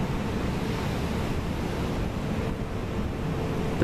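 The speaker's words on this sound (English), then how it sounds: "these waves are hitting the underside of the platform here" Storm waves in the North Sea crash against the underside of the Dunbar fixed jacket oil platform, a continuous loud roar of churning surf and wind buffeting the microphone, with no pauses.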